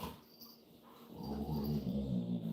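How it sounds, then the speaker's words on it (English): Dogs in a room whimpering and growling, with a low droning growl that grows louder toward the end and thin whines above it, close and without speech. "Let me get these dogs under control."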